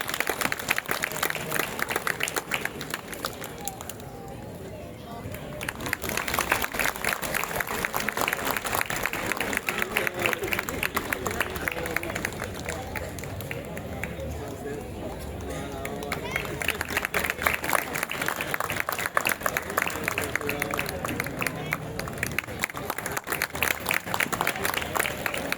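An audience at a church Christmas celebration applauds in a long run of loud, dense clapping that swells and dips in waves, with murmuring voices mixed in.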